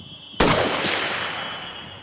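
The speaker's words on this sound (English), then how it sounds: "Great shot, well done." A single loud rifle shot cracks out during a sika deer cull outdoors, followed by a long, fading rumble of echo.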